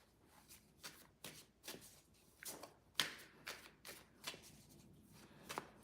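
Cards are riffled and shuffled repeatedly, a rapid series of crisp flutters and taps recorded close and fairly quiet, with no talking.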